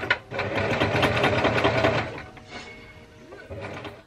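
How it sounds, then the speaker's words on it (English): A small Singer sewing machine stitching a 1930s-style shirt dress, a close, rapid mechanical whir in one long run that slows, pauses, then restarts in a short burst. "Now I'm ready to start sewing my shirt dress"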